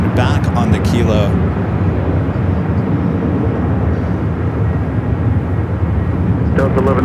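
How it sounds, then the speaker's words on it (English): EVA Air Boeing 777 pushing back at LAX, a loud continuous jet engine roar and rumble, with people talking over it at the beginning and end. "Eva 777 heading back to Taipei, now pushing back on the Kilo."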